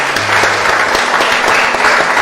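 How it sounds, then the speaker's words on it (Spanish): A church congregation claps together after a sermon, a dense, steady wash of applause filling the room from start to finish, with no voices over it. "Dale un aplauso al Señor."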